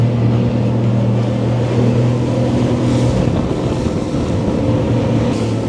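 Halma RIB HR25 inflatable boat running at around 18 to 20 knots, with a steady loud engine drone and rushing water and wind noise close to the microphone throughout.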